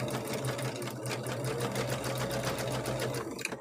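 A domestic sewing machine quilting runs continuously with a fast, even mechanical whir and rapid needle clatter, close and steady, stopping briefly at the end.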